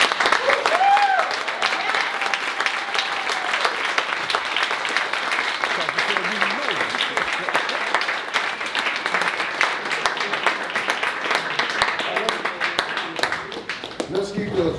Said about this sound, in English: Let's keep the round of applause for Mr. Harvester.